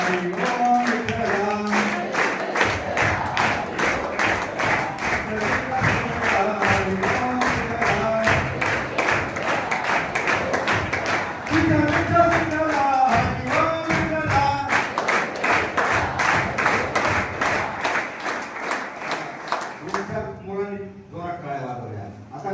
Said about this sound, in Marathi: त्यांनी जोरात टाळ्या वाजवल्या, हाताला झिंझिण्या आल्या नाही?